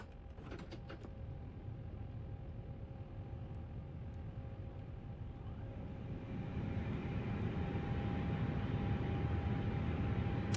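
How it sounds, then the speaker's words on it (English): Flight simulator aircraft engine starting up, a steady broadband drone with a low rumble that builds and grows louder partway through, a faint whine holding steady above it. "Start this aircraft up."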